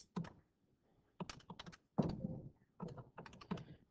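Quick taps on a graphing calculator's keys as numbers are entered, heard close up in several short clusters of clicks separated by brief pauses.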